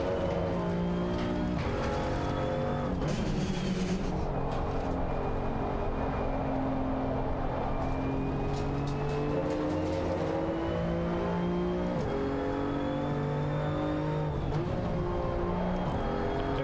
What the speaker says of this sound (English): Changing down gear.